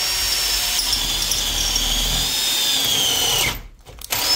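A cordless drill-driver that is running slightly weak drills in a workshop with a steady, loud whine whose pitch slowly sags, then cuts out abruptly and briefly starts again.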